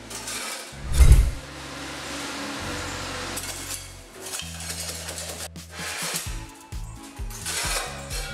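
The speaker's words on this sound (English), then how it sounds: "Brick-making machinery. This machine is an economical way of making bricks." A small economical brick-making machine runs with a clanking mechanical rhythm, a loud thump early on, then steady grinding hum and repeated metallic knocks of moving parts, with no voices.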